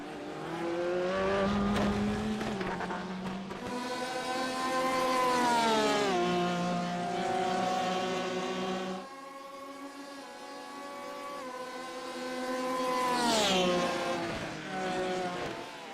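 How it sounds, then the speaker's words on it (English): GTE race cars lapping Monza in the iRacing sim, engines droning continuously with rising pitch sweeps through the gears and downshifts, one car loud and close while others blend in behind over the full stretch. "Even in these GTE cars, you can feel a little bit of draft back there."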